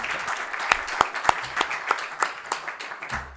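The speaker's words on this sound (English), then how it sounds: "if you can give them a round of applause" Sparse, scattered clapping from a small audience at an annual general meeting honouring the outgoing executive committee, individual claps distinct and moderately near, fairly quiet overall.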